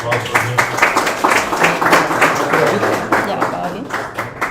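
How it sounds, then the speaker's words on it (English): An audience at an investor pitch event claps in a quick, fairly regular rhythm that stays steady for a few seconds, moderately loud and close. "Big applause for him."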